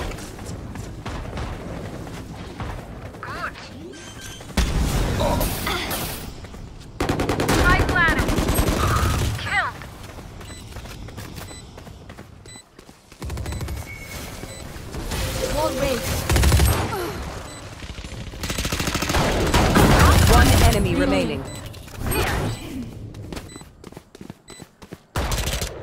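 Gunfire in the Valorant video game, bursts of shots and booming impacts coming and going loudly across the round, with a player's voice speaking over parts of it.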